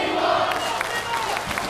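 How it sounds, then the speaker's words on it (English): A packed crowd at a Reality of Wrestling pay-per-view roars and cheers in a steady, dense wash of noise that continues without a break. "And listen to this crowd,"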